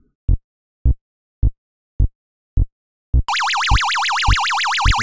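Classic Taito Space Invaders arcade sounds: a row of evenly spaced low electronic thumps, then the loud warbling, siren-like UFO tone sweeps up and down continuously, with the thumps still marching underneath.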